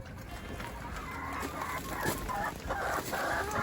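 Backyard chickens from a new laying flock cluck softly and steadily nearby, with a few brief louder calls over a faint hiss of background noise.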